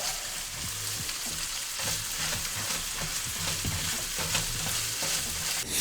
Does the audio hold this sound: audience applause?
no